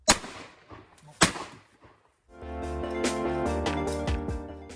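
Shotgun blasts while hunting wood pigeons in a forest: two sharp, loud reports about a second apart, each followed by a rolling echo, then a steadier rumbling background with more snaps.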